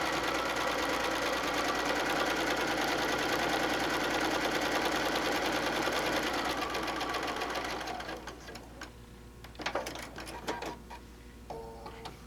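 A sewing machine stitches a fabric pouch with a fast, steady mechanical chatter close by, then stops around the two-thirds point, leaving a few soft handling clicks and taps.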